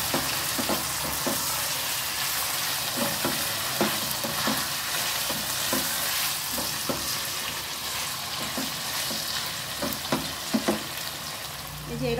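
Lotte fish, also called Bombay duck, fries in a pan with a steady, loud hiss as a spatula nudges and scrapes through it at irregular intervals. The sizzle runs continuously throughout.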